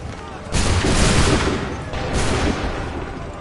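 Volley of musket fire in Assassin's Creed 3, a loud crackling burst of many shots at once followed by a second smaller ragged volley, over a constant battle rumble.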